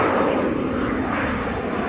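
An Embraer 175 jet taking off at Amsterdam Schiphol, its engines a loud, steady broadband roar that holds without a break, with no voices over it.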